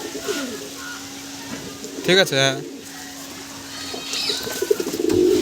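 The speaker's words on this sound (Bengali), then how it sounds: "এটা হচ্ছে একদম খারাবাজির পায়রা খুবই হাই লেভেলের পায়রা" High-grade pigeons cooing in a loft, with a clear coo in the middle and fainter calls later. Someone talks briefly over the birds.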